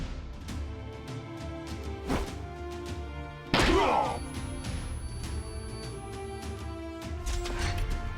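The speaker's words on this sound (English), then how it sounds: "we're just gonna flashbang this whole area" A flashbang goes off in the tactical game Troubleshooter, a sudden loud blast with a crackling burst midway through, set among scattered thuds, clicks and other game effects.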